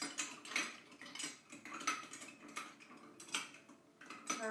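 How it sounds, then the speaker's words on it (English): A bar spoon stirs cocktail liquors over ice, giving a quick, uneven run of light clinks and rattles that sounds close and moderately quiet, with no talking. "we're just going to take our stir, and we're just going to stir this around"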